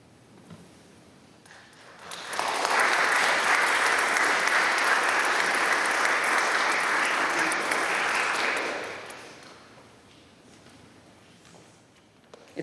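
Applause from a church congregation swells in after a soft start, holds loud and steady for about six seconds, then fades back to a quiet room murmur.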